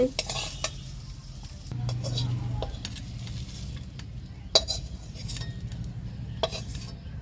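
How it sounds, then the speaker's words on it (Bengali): Fried bitter gourd stirred and lifted from a hot pan, a continuous sizzle under scraping strokes and several metallic clinks of the utensil against the pan, close up with no talk. "তো ভাজাগুলো একটু তুলে নিচ্ছি"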